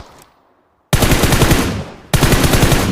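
Automatic gunfire in the mobile shooter BGMI comes in two loud, rapid bursts after a near-silent pause, each a dense, rattling stream of shots played close and alone.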